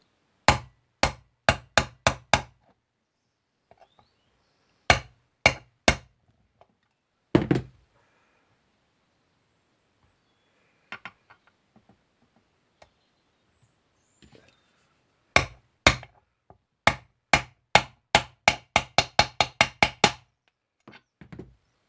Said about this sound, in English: And now, as the theory goes, we can just smack it gently into place.